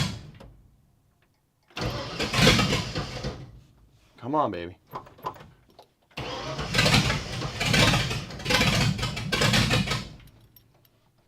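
A 1959 Ford F100 engine cranks and fires with the choke pulled, roaring loudly in two long bursts separated by a brief gap, while a voice speaks briefly between them.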